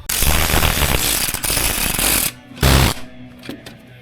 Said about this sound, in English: So this is our regulator setup, and this is also our fuel filter bracket. So let's get that bolted in.